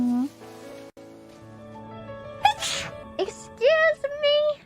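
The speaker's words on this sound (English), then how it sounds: "I feel like I sneezed right into the microphone that time." A single sneeze lands close to the microphone amid a woman's speech, with her voice and small vocal sounds before and after it.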